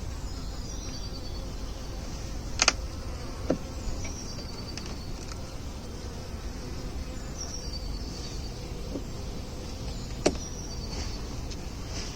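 Honeybees buzzing around a cluster of beehives on a farm in late February, a continuous low drone of many insects with a few brief passing buzzes and faint clicks, no speech.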